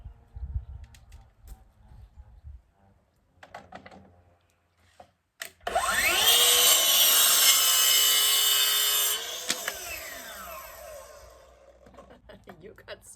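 A power cutter trims extra wood off a DIY TV stand frame, making a loud, steady whining cut of about four seconds, with quieter handling noises before it and afterward.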